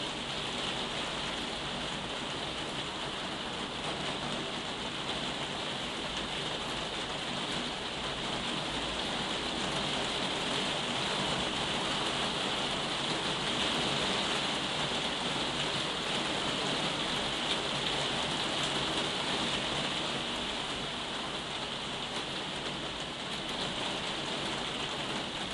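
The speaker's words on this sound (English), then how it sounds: "I hope you can hear me above the din of the rain" Steady heavy rain falling outdoors, a constant loud hiss and patter on surfaces without pause throughout.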